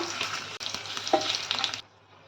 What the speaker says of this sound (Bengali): দিয়ে দিচ্ছি একটা তেজপাতা দুটো শুকনো লঙ্কা একটা দারচিনি আর একটা লবঙ্গ তো আনিয়ে নিচ্ছি ফোড়নটা